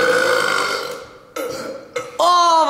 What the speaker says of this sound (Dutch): daar komt de boer aan